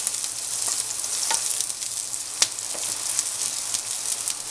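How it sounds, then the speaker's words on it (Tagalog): Bok choy and garlic sauté in a hot pan, giving a steady bright sizzle with a few soft clicks of stirring, close and constant. "Igigisa natin siya sa bawang,"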